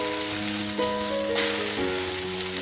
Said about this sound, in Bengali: সাদা সাদা মতো করে ভেজে তুলে নেব